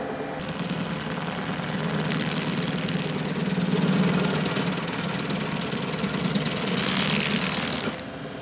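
Diesel engine of a John Deere 2038R compact tractor running steadily with a Baumalight 1P24 stump grinder on the three-point hitch, a loud continuous low rumble with grinding noise throughout, easing off at the end.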